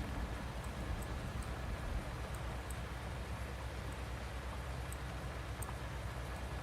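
Steady rain in a farming video game falls while a tractor on small tires ploughs, a dense even hiss with scattered faint drop ticks, continuous and fairly loud throughout with no talking.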